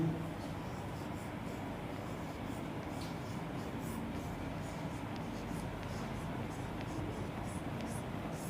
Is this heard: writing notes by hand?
yes